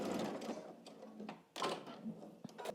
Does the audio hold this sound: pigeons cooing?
no